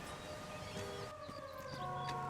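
An ambulance siren in the video game L.A. Noire, a wailing, shifting tone over a steady wash of background game noise, at moderate level.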